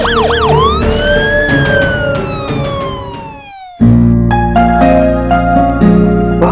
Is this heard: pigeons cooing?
no